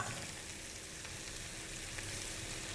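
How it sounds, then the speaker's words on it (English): Butter heating in a hot pan for garlic herb butter cod, with a continuous soft sizzle and fine bubbling crackle that holds steady throughout, alone without talk. "While that butter gets nice and hot"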